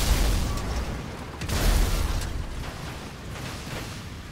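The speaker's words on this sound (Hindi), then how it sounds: "और यहाँ पे इतना सारा धमाका कर दिया अपन ने" Explosions in GTA 5 Online roll out as a dense, continuous rumbling roar with low booming swells, one heavier burst midway, steady and loud throughout with no talk.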